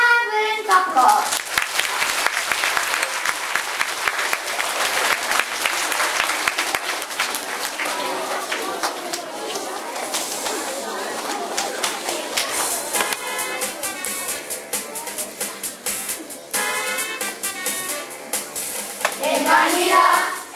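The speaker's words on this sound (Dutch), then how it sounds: "Geef ze maar een daverend applaus." An audience gives a long, loud burst of applause for sixth-grade children after their school performance, dense clapping that holds steady before thinning out, with some voices mixed in toward the end.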